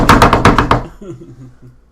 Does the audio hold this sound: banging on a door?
yes